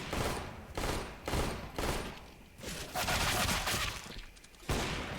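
Rapid bursts of gunfire from Counter-Strike: Global Offensive crack out in several loud volleys with short pauses between them, close and sharp, with no voices.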